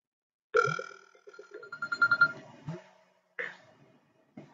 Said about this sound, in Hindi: कॉल आ रही है मेरे एंड्रॉइड पे।